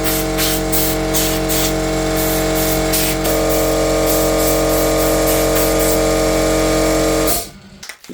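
Steady, loud hiss of a lacquer spray can runs continuously for several seconds, then cuts off abruptly.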